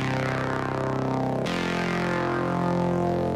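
A growling bass synth from a bass preset on Splice, used as a layer in a track: a thick, buzzy, sustained tone that shifts to a new note halfway through, loud and continuous with no voices.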